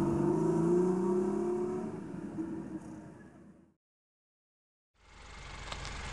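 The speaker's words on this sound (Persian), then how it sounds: "ماشین اسپورت." Sports car engine revving loudly and close at first, the roar easing off into a few seconds of silence before another engine burst returns near the end.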